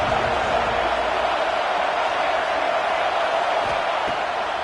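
A large stadium crowd at a top-25 college football game between Oklahoma State and Tennessee fills the air with a steady, broad roar that holds evenly throughout, with faint cheering in the wash.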